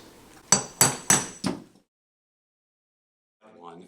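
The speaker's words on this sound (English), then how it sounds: "Hammer, a couple of taps." Four sharp metallic taps of a hammer on a pin punch against the armature of a Stryker 940 cast cutter held in a table vise, evenly spaced and ringing, followed by silence and a brief murmur.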